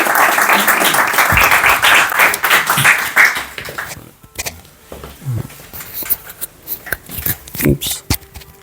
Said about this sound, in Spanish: Así que un aplauso a Mauri por...